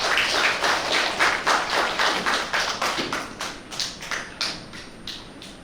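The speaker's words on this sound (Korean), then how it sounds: "여러분 박수 보내주시죠." Audience applause at an indoor science forum on carbon neutrality as a speaker is invited onstage, a dense run of clapping that thins into separate, spaced claps toward the end, with no talk over it.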